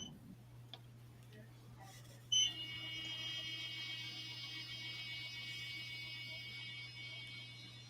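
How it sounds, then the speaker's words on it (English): A steady high-pitched electronic beep tone from an ammunition-reloading powder thrower sounds alone after a brief click, holding on continuously over a low hum. "now it's beeping."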